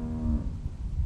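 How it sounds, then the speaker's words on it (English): A short, low cow moo sounds close by, followed by a rumbling, lowing tail, in the video game The Walking Dead. "I hear cows."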